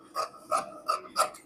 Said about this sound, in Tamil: இப்போ வந்து இதை கட் பண்ணிக்கலாம்.